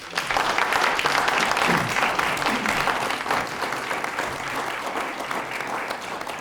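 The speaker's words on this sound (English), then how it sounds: "let's give them all a round of applause" The crowd at a Rowan County Commissioners candidate forum breaks into sustained applause, a thick, continuous clapping that starts strong and eases slightly as it goes on, with faint voices mixed in.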